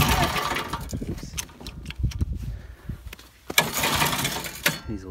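A vintage snowmobile converted to a four-stroke engine being pull-started by hand: several uneven rope pulls with brief cranking bursts and rattles that do not catch, close by and fairly quiet.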